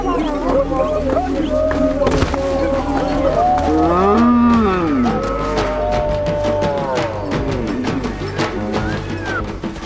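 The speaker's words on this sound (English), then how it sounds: "They're starting to get the cattle out and over to the area where they're going to slaughter them." Cattle being driven out toward slaughter at an African initiation gathering moo loudly and repeatedly, several animals calling over one another amid a constant busy background of crowd noise and movement.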